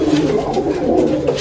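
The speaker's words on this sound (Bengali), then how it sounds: "ছোট্ট ছোট পায়রা।" Small pigeons in a collection of female and baby birds coo close by in soft, repeated low throaty bursts that carry through the short moment without any talking.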